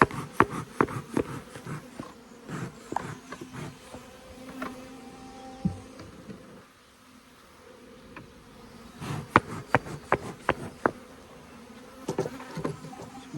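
A colony of aggressive honeybees buzzes continuously as frames are shifted from a National hive into a Langstroth, with bursts of rapid clicking and tapping from the hive parts coming and going over the hum.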